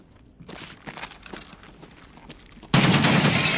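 Gunfire in Escape From Tarkov opens with scattered shots and footsteps-like thuds, then a loud, dense burst of close automatic fire.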